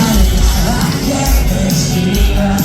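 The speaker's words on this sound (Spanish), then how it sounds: "todo el mundo da un fuerte aplauso al Triana" Large outdoor concert crowd at a show roaring, whooping and applauding, a loud continuous wall of cheers and clapping with shouted voices rising above it throughout.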